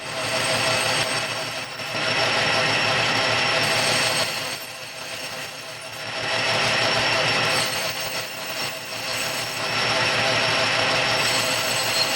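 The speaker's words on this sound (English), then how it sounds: "Now it's time to bore this out here for the retaining nuts." A lathe bores out a part for retaining nuts, a loud steady mechanical whine with a grinding hum that dips briefly a few times as the cut pauses and resumes, with no talking.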